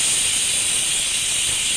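Pressure cooker whistle releasing steam while cooking mutton boti gojju, a loud, continuous close hiss that holds steady without pause.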